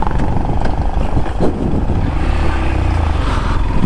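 A motorcycle rides along a quiet village road, its engine drone and road rumble steady and close throughout, with no voices.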